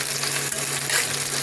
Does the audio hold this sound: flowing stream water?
no